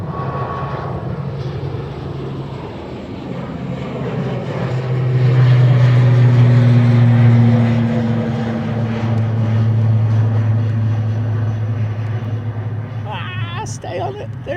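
An aircraft on the runway at Dublin Airport during single-runway operations, a loud, low engine roar that swells twice and then eases, with voices heard over it.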